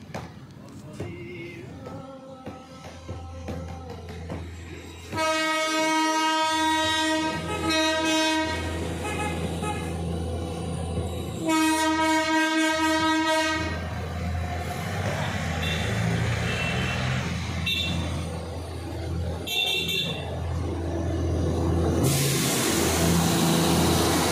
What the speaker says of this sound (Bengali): ম্যাডাম দেখুন টয় ট্রেন কিন্তু চলে এসেছে